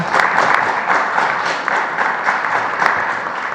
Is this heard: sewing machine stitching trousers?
no